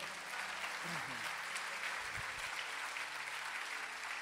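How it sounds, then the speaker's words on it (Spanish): A church congregation claps in praise to the Lord, a steady, distant wash of applause heard faintly throughout, with a voice briefly audible near the start. "Dale un aplauso al Señor."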